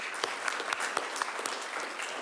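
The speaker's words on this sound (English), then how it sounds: "I think it deserves another round of applause." An audience at a council meeting gives a short round of clapping, a steady patter of many hands at moderate distance with no voices over it.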